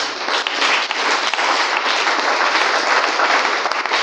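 A church congregation applauds the Lord, a loud, dense, continuous wash of clapping that holds steady for several seconds with no voices over it.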